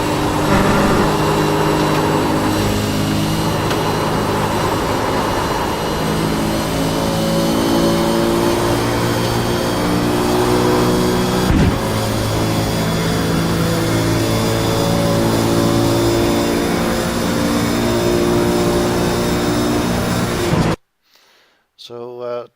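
A V8 race car engine screams at the top of sixth gear at Watkins Glen, a loud, sustained in-car drone holding steady for about twenty seconds, with a driver talking over it, before it cuts off abruptly near the end.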